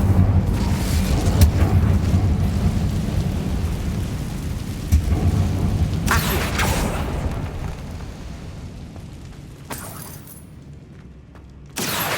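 A fire spell cast in Hogwarts Legacy inside a decayed catacomb, a loud rumbling whoosh that roars steadily and slowly fades, with sharper bursts flaring near the middle and end, and no talk over it.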